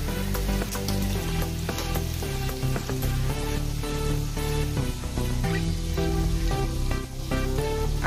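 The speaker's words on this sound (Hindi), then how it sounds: "इसको तलने का है।" A crisp semolina and wheat-flour snack sizzles steadily as it fries in hot oil and is turned with a spoon. The even frying hiss runs throughout and is partly covered by tonal background music.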